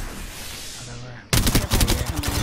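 Rapid burst of video-game gunfire erupting loudly after a quieter stretch of background sound, dense repeated shots continuing to the end.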